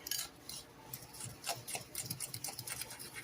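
A fork creaming butter and brown sugar together in a bowl for chocolate chip cookie dough, giving faint, quick scraping and tapping strokes against the bowl in an irregular rhythm, close by and quiet.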